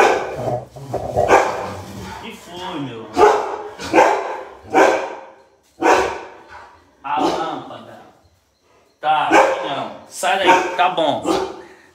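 Pet dogs barking indoors at home after a falling light bulb startled them, a series of loud, close barks in repeated bursts with short gaps, mixed with a person speaking.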